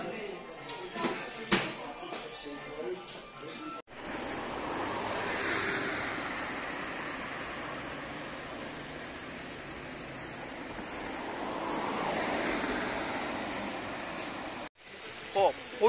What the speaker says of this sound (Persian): پشت من دریاست